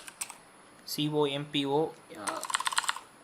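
Computer keyboard typing, a quick run of clicks starting after someone speaks briefly while coding a blog application in Angular and PHP.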